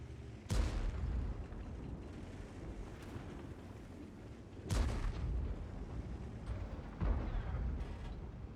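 A TS-5 tank's cannon fires in a video game battle, letting out three heavy booms several seconds apart. Each boom leaves a rumbling tail over a constant low background.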